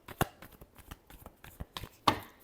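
Tarot cards being shuffled in a few short, sharp riffling bursts with quiet gaps, the loudest flurries near the start and end, close and crisp with no talking.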